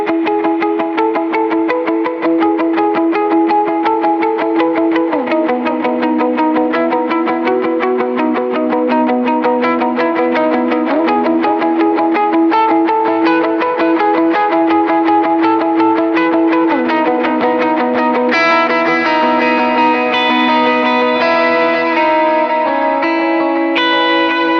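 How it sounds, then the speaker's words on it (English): An electric guitar plays through a delay pedal with very little reverb, repeating echoed notes ringing continuously and loud over a sustained tone, with no talk. "here is the delay with very little reverb"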